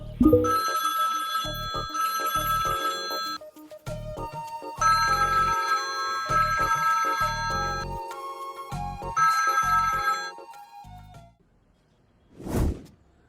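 A telephone rings in repeated bursts of bright, electronic-sounding tones over a low rhythmic beat, then stops, followed by a single whoosh.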